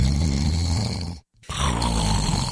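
Loud, close snoring in a bedroom at night, a long rasping breath followed by a brief pause and then another heavy, rattling snore.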